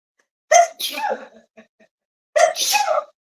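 Two sharp sneezes, each a quick intake burst followed by an explosive release, separated by a second or so of quiet.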